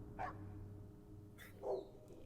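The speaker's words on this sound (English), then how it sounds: "dogs barking" A pair of distinct dog barks, one early and one later, stand out over a low steady background hum, played as a sound effect in a tabletop role-playing game.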